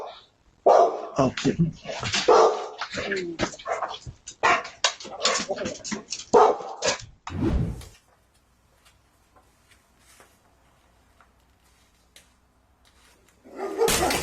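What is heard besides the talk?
guard dog barking and whimpering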